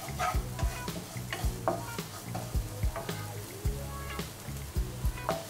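Blended or pounded spice paste stir-fried in hot oil for Chinese sausage with fennel leaves: a steady close sizzle broken by repeated rhythmic scraping strokes of a spatula against the pan, with no talking.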